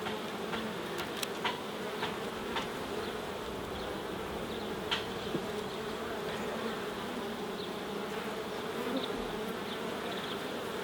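A dense, steady drone of many honeybees buzzing inside a hive box during a swarm-prevention check, with a few individual bees flying close past the microphone.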